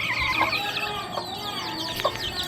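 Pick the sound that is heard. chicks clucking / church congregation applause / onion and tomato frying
chicks clucking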